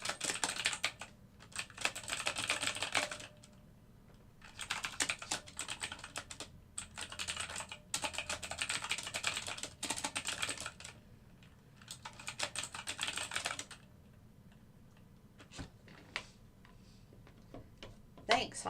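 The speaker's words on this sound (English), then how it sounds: "I need to type this out real quick." Bursts of typing on a computer keyboard during a live algorithmic trading session on NinjaTrader, clicking in several runs separated by short pauses, close and moderately loud, with a little talk in the background.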